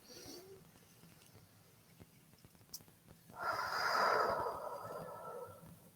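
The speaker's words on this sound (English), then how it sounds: "So we're going to take a deep breath in." A slow, deep breath drawn in and released with an audible rush of air, close and soft, following a quiet pause.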